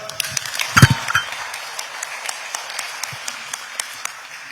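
Clapping from guests at a luncheon comforting victims of state violence as they welcome the president, with a brief loud burst near the start, then scattered individual claps tapering off at moderate volume.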